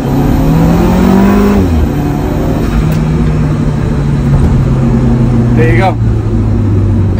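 Alfa Romeo 4C with a Magnaflow exhaust at full throttle from 25 to 50 mph in dynamic mode, its engine rising to a loud, steady roar heard close up while someone speaks briefly over it.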